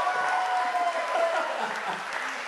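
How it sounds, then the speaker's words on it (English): A crowd at a comedy hypnosis show in Dubai gives a round of applause, a steady, somewhat distant wash of clapping with a faint tone running under it. "Give a round of applause."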